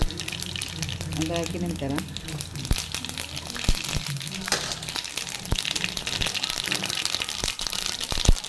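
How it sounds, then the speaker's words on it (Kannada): Mustard seeds and cumin hit hot oil for a rajma curry, giving a steady close sizzle peppered with sharp popping crackles under ongoing speech. "ಸ್ವಲ್ಪ ಎಣ್ಣೆ ಬಿಸಿ ಆಯಿತು, ಈಗ ಸಾಸಿವೆ ಮತ್ತು ಜೀರಿಗೆ ಹಾಕ್ತಿದ್ದೇನೆ."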